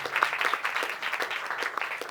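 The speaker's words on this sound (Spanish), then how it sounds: "Dele ese aplauso fuerte a Jesús" A church congregation claps in dense, steady applause for a couple of seconds, a broad even wash of hand claps with no other sound over it.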